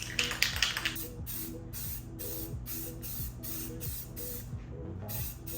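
Spray painting a Genesis Coupe ram-air headlight part in a garage: a steady, fairly loud broadband hiss runs throughout, with faint mechanical hum and small tonal noises beneath and no talk.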